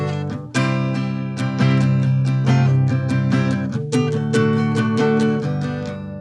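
Electric guitar strumming in the rhythm of a song, with ghost notes filling the spaces between eighth-note upstrokes; a steady, close, ringing chordal pattern played alone for about six seconds.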